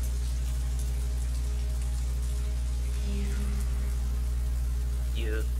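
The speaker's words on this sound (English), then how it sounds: "Pouring rain. That's a torrential rain right there." Torrential pouring rain in the horror video game Fatal Frame 3, a dense steady hiss of rain under a low droning ambience, with a few faint tonal game sounds and a person talking intermittently.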